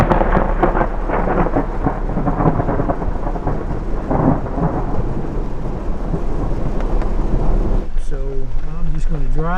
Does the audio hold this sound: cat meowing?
no